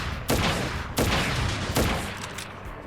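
Gunfire in Crisis Core Final Fantasy 7 Reunion as an enemy is shot, three sharp distinct shots spaced under a second apart over a steady game background hum, with no talking.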